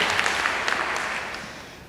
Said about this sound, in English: So, yeah, clap it up.